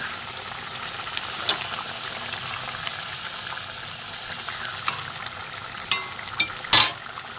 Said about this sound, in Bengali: মাছের ঝোল ফুটে সেদ্ধ হয়ে গেছে